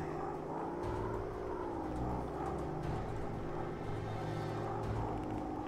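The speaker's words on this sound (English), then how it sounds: "We're landing this plane." A WW1 fighter plane's engine in a flight simulator game drones steadily and loudly throughout, a continuous propeller hum with slight shifts in pitch and no talking.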